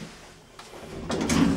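Elevator two-speed door sliding open on a lift rated for 630 kg and 8 persons, installed in the mid-2000s at a Belfast store, giving a soft rising rumble and rattle that builds near the end.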